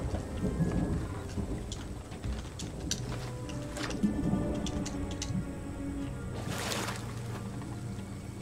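Stormy weather in the pirate game Sea of Thieves: steady rain hiss with low rumbling thunder rolling underneath and scattered sharp crackles, a brighter burst near the end, all fairly faint.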